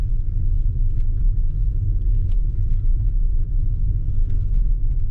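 A 2021 Toyota RAV4 drives on a snowy, sand-covered road at about 23 to 25 mph, making a loud, steady low rumble of engine and tires with faint scattered ticks above it.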